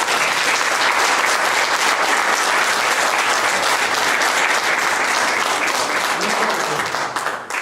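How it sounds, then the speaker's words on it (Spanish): Sustained audience applause for Elizabeth Pérez at a community event in Santiago, loud and dense clapping filling the whole stretch with faint crowd murmur, tapering slightly at the very end. "les pido que me acompañen un aplauso a doña Elizabeth Pérez"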